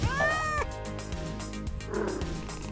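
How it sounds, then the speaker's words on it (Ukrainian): A cartoonish cat meows in the Toca Life World game, a short rising-falling mew near the start with a second softer one later, set against busy background game music. "Хто це тут? Котик? Чи ти загубився?"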